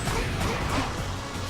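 Glass smashing in the Sonic the Hedgehog (2006) game, a short burst of shattering and crunching impacts under busy game noise, steady and moderately loud across the moment.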